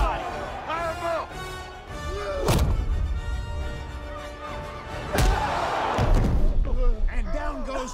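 Heavy body punches land in a film boxing fight, several sharp thuds and cracks spread over a few seconds, mixed with crowd noise and a commentator's voice.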